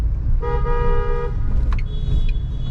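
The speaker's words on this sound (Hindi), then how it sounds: "अब यहाँ पे भी आपको हॉर्न देना पड़ेगा" A car horn honks once in a steady tone for about a second on a highway near an underpass, then a second, higher horn sounds briefly, over a low road rumble.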